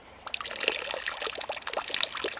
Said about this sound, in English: so we can pour off the water